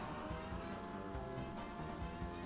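Kart engine and tire noise from an N64 racing video game, a steady buzzing drone as the kart accelerates, brakes and jumps, with game effects layered over it.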